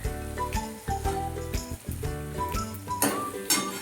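Egg bhurji being served onto a hot plate, heard as a run of close clinks and scrapes of a utensil against the dish, repeating in an uneven rhythm.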